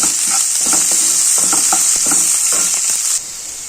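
A frying mixture for an okra rasam is stirred in a pan, a loud bright sizzle with quick rhythmic scrapes and clatter of the spoon, close, easing off slightly at the end.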